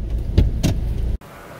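Inside a Jeep Compass, a couple of dull thumps and shuffles of someone moving, then a sharp clunk as the door mechanism releases and the cabin sound opens up.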